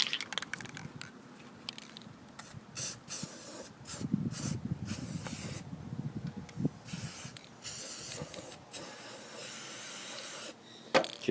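A shaker can of spray paint hisses in short bursts with pauses between them while touching up a 2014 MTD 20-inch push mower, the sprays soft and close.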